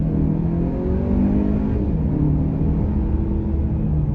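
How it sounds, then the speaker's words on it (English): A 2023 VW Arteon SEL Premium R-Line accelerates at full throttle toward 50 in sport mode, a steady loud engine drone with rising harmonics, heard from inside the cabin with no talk. "Full acceleration to 50 here."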